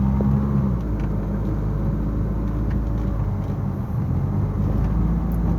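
A Mitsubishi E Car with a 4G63 engine converted to LPG injection runs steadily at low speed, its loud, even rumble and motor whir continuous throughout with slight surges, no talk.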